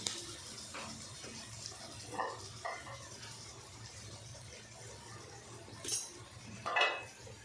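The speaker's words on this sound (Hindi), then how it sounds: "और इसको ढक्कन लगा के बंद कर देंगे।" A metal lid is set onto a cooking pot, making a few close clattering clinks of cookware against a quiet kitchen background.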